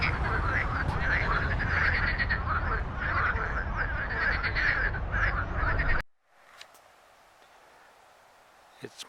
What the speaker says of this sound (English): can you hear the racket from the frogs?